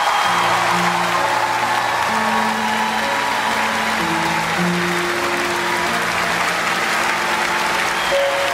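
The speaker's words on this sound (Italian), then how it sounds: "Un sacco di fiori, un sacco di applausi meritati." Concert audience applauding after a vocal performance, a steady, loud wash of clapping with sustained music tones lingering underneath throughout.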